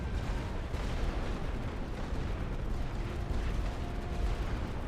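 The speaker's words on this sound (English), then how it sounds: "They're launching their own artillery barrages" Continuous rumbling artillery barrage from The Great War: Western Front, a dense, steady roar of distant shell fire and explosions with no clear gaps.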